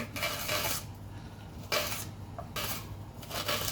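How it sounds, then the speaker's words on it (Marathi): A knife slices peeled onions lengthwise on a board for a vegetable Hyderabadi biryani, three separate bursts of crisp cutting and scraping with quiet gaps between them, close and clear. "आता आपण हे कांदे सोलून घेतलेले आहेत. आता आपल्याला त्याला उभं कापून घ्यायचे आहे."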